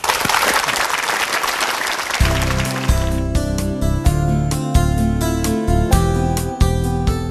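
Enthusiastic applause from a TV lecture audience fills the space, then a bright musical tune with steady beats starts up over the clapping.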